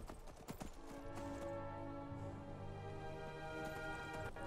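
Horse hooves clip-clop across the ground in the video game Skyrim, a quick run of hoof steps heard early, then the pace fades under steady orchestral game music with sustained tones.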